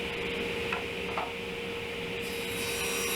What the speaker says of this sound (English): Now I'm starting to cut for the shelf that's in the middle, and there's one on each side.